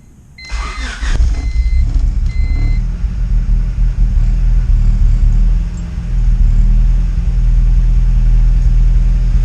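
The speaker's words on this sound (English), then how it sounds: "we can see if this thing fires up" A turbo-swapped Honda Civic Type R cranks briefly, catches and fires, then settles into a loud, steady, rumbling idle that carries on close by to the end, with no voices.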